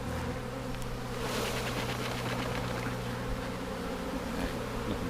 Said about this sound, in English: I've got a handful of bees.